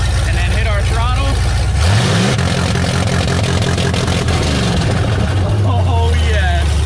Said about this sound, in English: we're gonna go ahead and activate it, and then hit our throttle.